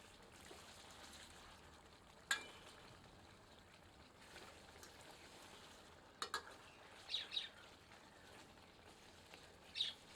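Duck curry masala cooking down in a pressure cooker, with a ladle stirring and scraping the base over a faint, steady sizzle; a few sharp clinks stand out, with no voices.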